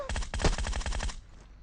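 Rapid automatic gunfire from a bot below the player in PUBG Mobile, a loud burst of about a dozen evenly spaced shots with one heavier crack midway, ending abruptly into quieter background.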